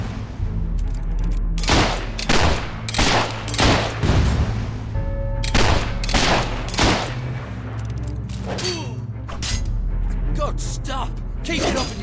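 Gunfire in the action role-playing game Fable 3, heard as loud, rapid volleys of shots and bangs in bursts over a steady background, with voices speaking among the shooting.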